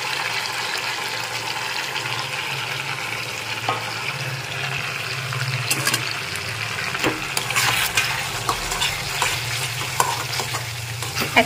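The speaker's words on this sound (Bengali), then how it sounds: "আগে আমি একটু নেড়ে চেড়ে নিচ্ছি, মশলাটা দিয়ে একটু নেড়ে চেড়ে নিয়েছি।" Chili chicken being stirred with masala in a frying pan, with a steady sizzle and scraping strokes of a utensil throughout, close and fairly loud, with no talking.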